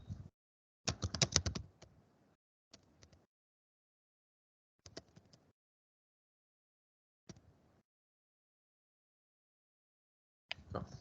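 Bursts of typing on a computer keyboard, clustered clicks separated by pauses of silence, close and fairly quiet with no talk.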